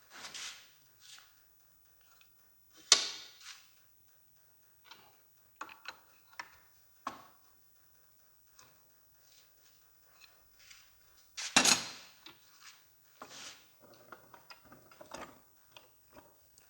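Ratcheting and metallic clicks from a socket wrench working a bolt on the steering box of an MF135 six-speed tractor under restoration, coming in short irregular bursts with quiet gaps, close up and with no voices.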